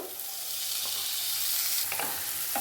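Small tomato pieces fry with carrot in a pan for a vegetable macaroni, a continuous close sizzle with a few quick stirring knocks near the end.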